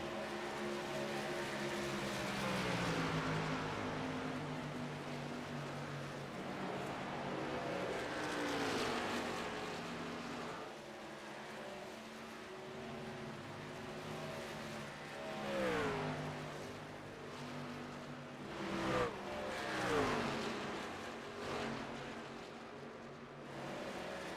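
Racing trucks in a Truck Series race at Dover International Speedway roar continuously, engines rising and falling as they pass at close range, with several louder surges of passing vehicles and no talk.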